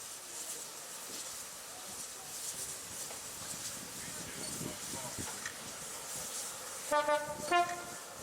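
HST railtour train creeping slowly into a heritage station platform past a loco shed and turntable, low rumbling and rail noise throughout, then a few loud two-tone horn toots near the end.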